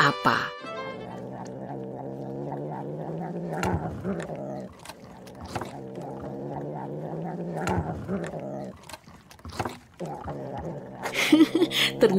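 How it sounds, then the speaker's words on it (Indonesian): Cat purring close up, a rough, rumbling purr in long rhythmic stretches broken by short pauses, loud and near with no talking. "Ternyata bukan suara alat musik, tapi dengkuran si meong."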